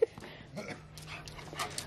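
Several dogs whimpering and whining at home, soft, high, breathy whines, fairly faint, over a low steady hum, with one brief sharp sound at the very start.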